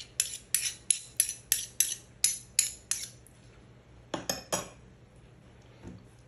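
A spoon clinks rhythmically against a bowl while mixing a vinaigrette with mustard and a pinch of cumin, a run of about ten quick regular taps, a pause, then a few more strikes.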